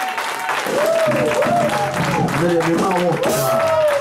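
A church audience at a prophetic ministration in Aachen breaks into applause, a dense roar of clapping that carries on under someone speaking loudly over it with echoing, sung-out phrases.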